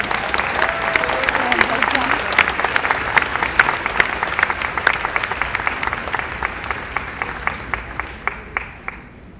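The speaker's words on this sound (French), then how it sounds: "Allez, on applaudit bien fort." An audience claps loudly and continuously, a dense patter of hands that slowly thins out and fades toward the end, with speech faintly mixed in.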